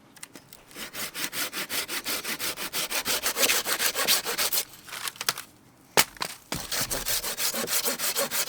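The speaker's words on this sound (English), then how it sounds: "So I've got some sticks, we'll just sharpen an end on them." Wooden sticks are whittled to sharp ends for sand pegs at a winter riverside camp, with close, rhythmic rasping strokes that pause briefly before resuming.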